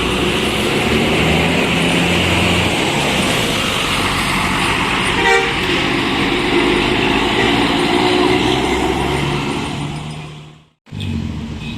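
A Gumarang Jaya intercity coach bound for Jakarta rumbles past on a road near Bukit Serungan, a loud, steady engine-and-tire roar with a brief horn toot, cutting off abruptly near the end.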